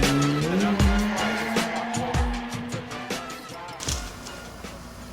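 Car drifting in Washington State, tire squeal and engine revving in rising and falling sweeps over roughly five seconds, fairly close and loud, with a few sharp bumps and some background voices.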